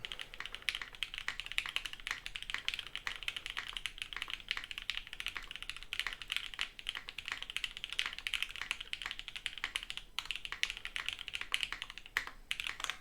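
Keys on a prototype StashBox mechanical keyboard fitted with a PC plate clatter in quick continuous typing, close-up and even in level, poppy and bright, heard alone without speech.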